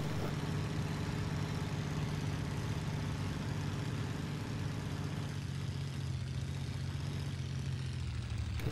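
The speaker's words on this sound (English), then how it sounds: "Engine's not liking me at all." A struggling WWII fighter plane engine in a flight combat game drones steadily and continuously at a low, rough pitch, with no voices over it.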